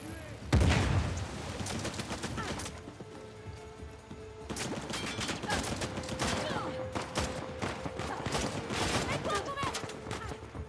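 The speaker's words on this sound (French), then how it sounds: "Mais qui me tire dessus?" Rapid bursts of gunfire and scattered shots in the video game Uncharted: The Lost Legacy, loud and continuous across the scene with a voice speaking over parts of it.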